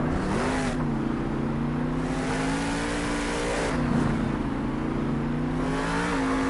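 The Bakugan Dragonoid monster truck at a Monster Jam stadium event in Las Vegas revs its engine, a loud continuous roar whose pitch rises and dips, with no talk.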